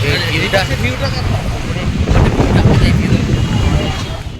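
Strong wind buffets the microphone in a loud, continuous roar on a bridge in Kolkata, with a voice talking faintly underneath.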